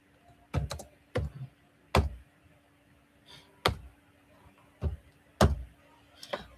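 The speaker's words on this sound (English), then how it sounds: "you can come here and type something" Keys clicking on a computer keyboard, typed in short irregular bursts of about eight sharp taps, some struck in quick pairs, over a faint steady hum with no one talking.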